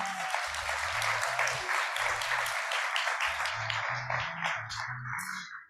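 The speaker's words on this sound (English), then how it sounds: "I want to just give yourself a round of applause for being here" An audience at a public art breakfast gives a warm round of applause that is loud and sustained, then thins out, with steady low music playing underneath.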